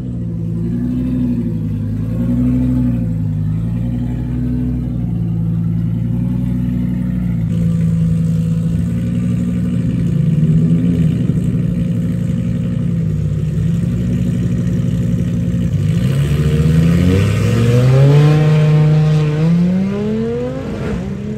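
An Audi RS3 engine revs hard during a drag racing pass, a loud continuous drone whose pitch sweeps up and down through repeated gear changes, with no talk.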